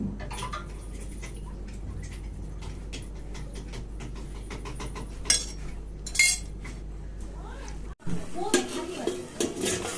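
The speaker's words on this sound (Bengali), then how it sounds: "তো এখন আমি আলু ভাজা বানাচ্ছি" Potato fry being cooked in a pan at home, with repeated clinks and scrapes of a utensil against the pan over a steady low background hiss, ending in a louder burst of stirring.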